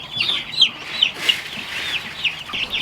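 Chickens on a family homestead, kept near a batch of meat birds, give a run of short, bright clucks and peeps at a steady, uneven pace, close by over a soft farmyard background.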